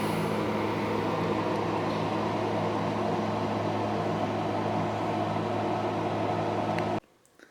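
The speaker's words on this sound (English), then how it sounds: "some of the leftover meats, which I have the honor today of vacuum sealing" A vacuum sealer sealing bags of leftover BBQ competition meats runs as a steady, loud motor hum with an even drone, then cuts off abruptly near the end, leaving near silence.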